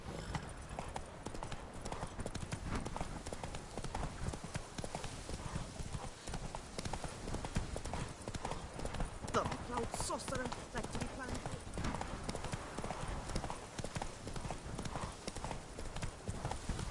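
Roach, Geralt's horse in the video game The Witcher 3: Blood and Wine, gallops at a steady driving clip-clop of hooves that runs continuously and loudly throughout, with occasional voice and game sounds mixed underneath.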